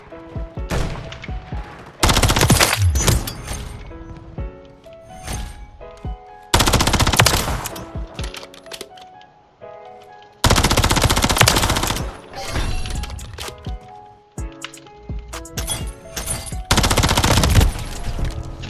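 Machine gun fire from the Black Ops 6 video game, with several loud sustained automatic bursts separated by quieter gaps of game sounds, no talking.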